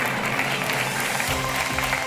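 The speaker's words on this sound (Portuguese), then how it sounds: "Um aplauso para os Antónios, que saem do Joker com 200 euros." Studio audience applauding on a Portuguese television game show, a steady dense wash of clapping throughout the two seconds with a faint voice underneath.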